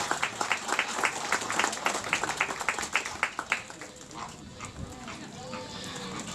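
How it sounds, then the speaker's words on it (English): Audience applause at a zoo flamingo show in Nassau, Bahamas, a lively spread of clapping from many people outdoors that fades after a few seconds, with a voice talking over it. "All right, a round of applause to come to the third stop."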